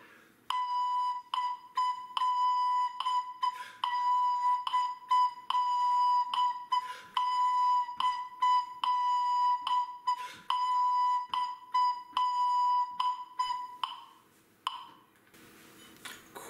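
A recorder plays a simple lesson rhythm of quarter and eighth notes, clear repeated whistly tones in a steady pulse, mostly on one pitch with a few higher notes, then stops near the end.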